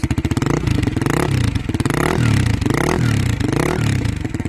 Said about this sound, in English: I'm not going to rip the engine and show you how the exhaust is or how loud is it